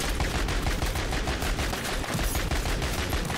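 Rapid, dense automatic fire from the JAK Gunslinger in Modern Warfare 3 Zombies, a continuous loud stream of shots with no pauses and no talk.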